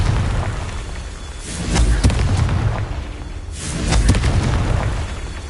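A Confringo blasting spell from the Hogwarts Legacy video game goes off as two loud, booming explosions about two seconds apart, each swelling and fading over continuous game ambience.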